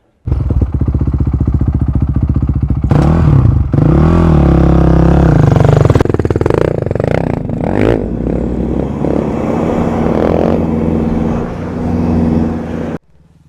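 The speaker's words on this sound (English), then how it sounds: "He's just over here on the bike." A motorbike mustering wild camels in the outback revs and rattles loudly up close, engine pitch rising and falling through gear changes with clattering and scraping, then cuts off abruptly near the end.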